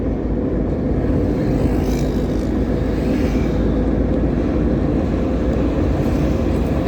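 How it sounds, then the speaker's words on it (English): Rush-hour road traffic on the motorway between Accra and Tema in Ghana: a steady, loud, continuous rumble of many vehicles with a constant broadband roar and no voices. "But because of traffic, we are still in a lot of vehicles because this is the rush hour."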